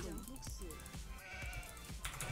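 Sheep bleat in short wavering calls over a busy game soundscape, with a couple of distinct bleats near the start and more activity later, mixed with clicks and background game noise.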